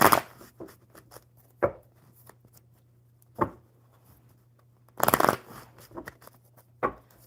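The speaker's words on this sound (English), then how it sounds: "One more good shuffle." A deck of playing cards being shuffled in several quick riffling bursts separated by pauses, close and crisp over a faint steady hum, with no talk.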